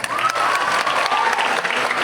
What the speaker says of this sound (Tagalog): Hindi po ako magsisimula hanggat walang palakpakan.